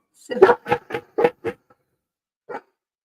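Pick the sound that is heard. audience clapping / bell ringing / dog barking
dog barking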